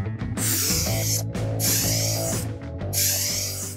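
Spray gun laying clear coat over fresh car paint in three long hissing passes with short breaks between, loud and close over a steady tonal hum.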